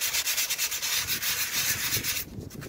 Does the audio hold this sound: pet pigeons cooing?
no